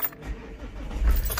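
A cheap scrap-bought used car engine cranks and fires up, a brief rising low rumble settling into a close idle, with faint jangling of keys at the start.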